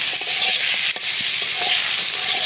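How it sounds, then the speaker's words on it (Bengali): Eggplant and potato pieces coated in turmeric are stirred in a hot frying pan, giving a continuous loud sizzle broken by scraping and spatula knocks, with no one speaking. "বেগুন আর হলুদ ভালো করে নেড়ে"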